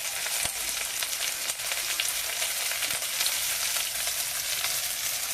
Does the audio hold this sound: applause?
no